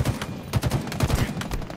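DMR rifle fire in Halo Infinite multiplayer: quick, punchy shots in uneven clusters, mixed with other game gunfire and a dense background of battle noise.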